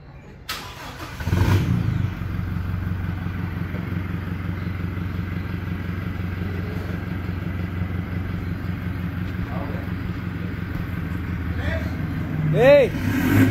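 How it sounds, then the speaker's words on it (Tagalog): A Toyota Hilux with a full exhaust and resonator idles low and rumbling after starting up, holding a steady throaty drone with a brief rev near the end. "Daan full exhaust Hilux with resonator"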